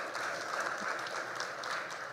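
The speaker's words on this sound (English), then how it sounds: "a round of applause to Armando" An audience at a startup week business mixer applauds, a steady wash of many hands clapping that holds evenly for a couple of seconds.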